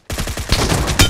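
Rapid burst of M762 assault rifle fire in a shooter video game, a quick run of close, loud shots followed by a heavier blast at the end.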